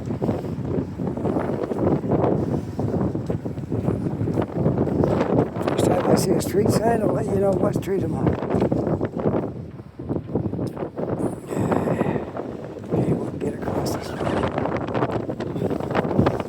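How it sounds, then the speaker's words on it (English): Strong wind buffets the microphone in a constant low roar while someone talks over it throughout. "it's very windy up here"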